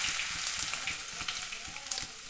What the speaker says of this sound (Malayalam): എണ്ണ ചൂടായതിനു ശേഷം കുറച്ച് കടുക് ഇട്ട് കൊടുക്കാം. കടുക് പൊട്ടി വരുമ്പോൾ പെരുംജീരകം ചതച്ചത് അതിലേക്ക് ഇടുക.